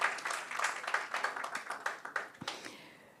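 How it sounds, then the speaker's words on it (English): Audience applause at a talk on money and family finances, a brief round of clapping that fades away over a few seconds. "So I'd like you to clap for yourselves,"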